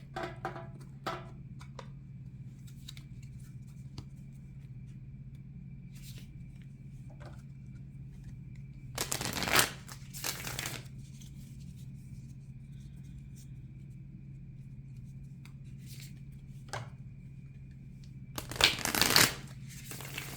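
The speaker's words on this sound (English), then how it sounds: "this deck doesn't overhand shuffle well" Someone shuffles a deck of oracle cards by hand, two brief riffling bursts about nine seconds apart over a low steady background rumble.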